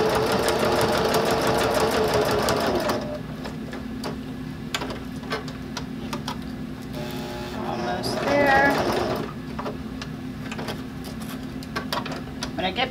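A sewing machine runs a fast, loud burst across the stitching line of a bag handle cover, then a quieter stretch with ticking and handling noises and a short second stitch near the end.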